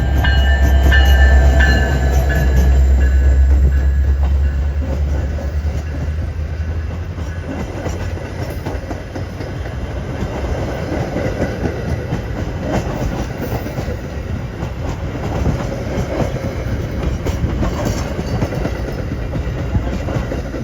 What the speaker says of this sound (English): Outbound Metro train 2125 bound for Fox Lake with one of Metra's SD70 Max leading.